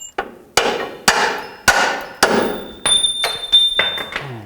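Tools strike sharply against the control arm bolts of a 2000-06 GMC Yukon front suspension, eight loud metallic hammer-like blows at roughly even intervals, ringing briefly, with no talk.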